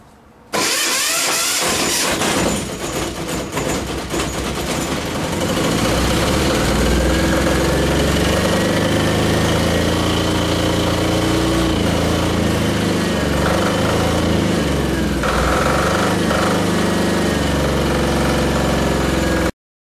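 An Aurora 6500 SDE diesel generator is cranked, catches after a couple of seconds and settles into a loud, steady running drone close by, then cuts off abruptly at the end.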